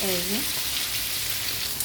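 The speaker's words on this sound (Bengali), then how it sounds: "এই যে ভাজা মাংসগুলো দিয়ে দিচ্ছি" Fried meat sizzles in spices in a pan, a continuous close crackling hiss with a short voice at the start, staying steady and moderately loud.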